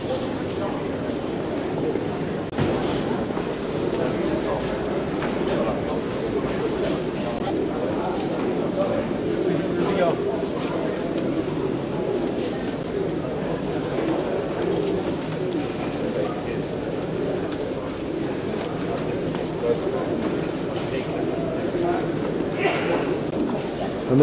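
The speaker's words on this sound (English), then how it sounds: "there's a big number of fancy pigeons" Fancy pigeons from a Nottingham club coo softly inside a crowded Midlands loft in 1997, a steady murmur of birds running throughout beneath someone talking.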